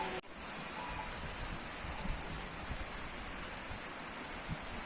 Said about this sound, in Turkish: Tam çıkacakken yağmur başladı.